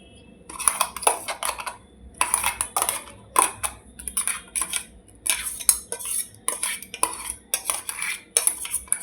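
Ground corn paste scooped with a metal spoon from a mixer jar into a bowl, giving repeated clinks and scrapes of metal on metal and steel in irregular bursts, close up and with no talking.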